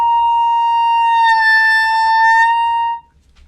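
Clarinet sustaining a single tone for about three seconds, its pitch bent slightly as the player shifts tongue position, bright and steady with a strong sounding note before cutting off abruptly.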